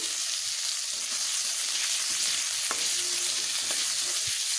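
Chopped onions and garlic fry in a pan with a loud, continuous close-up sizzle and a couple of sharp stirring knocks, with no talk.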